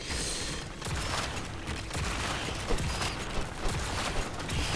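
Shotgun blasts from the Starship Troopers: Extermination game on PC sound amid a dense, continuous barrage of gunfire and mechanical clatter, with several sharper bursts standing out near the end.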